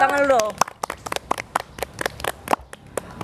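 Podcast audience clapping in a short run of sharp, separate claps after a brief voice, small and close, like only a few people.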